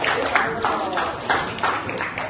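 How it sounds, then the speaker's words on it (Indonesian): A classroom of students clapping for a classmate, a brief uneven burst of hand claps with a loose rhythm, with chatter mixed in. "tepuk tangan juga untuk Adi"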